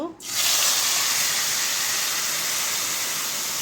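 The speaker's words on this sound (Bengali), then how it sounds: "তেলটা গরম হয়ে গেছে এখন আমি এক এক করে এটা দিয়ে দিব" Pieces of fish, for a spicy fish bhuna, drop into hot oil and erupt into a loud, sustained sizzling hiss that holds steady at close range for several seconds.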